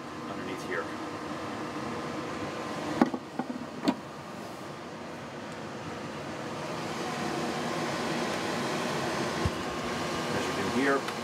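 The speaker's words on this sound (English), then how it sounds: "the air conditioning is in operation" Air conditioning runs in the cabin of a Jeanneau 54 yacht, a steady low hum held throughout, with a few brief clicks and faint voices in the background.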